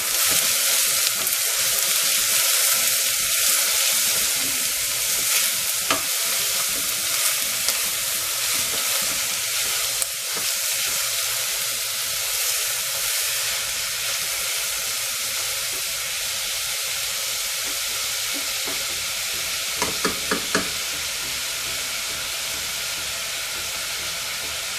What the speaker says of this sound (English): We're gonna saute these onions for a little while until it gets soft.